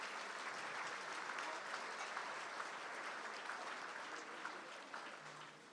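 Applause from a business luncheon audience fills the room as a continuous wash of many hands clapping, steady and fairly distant, easing slightly in the final second.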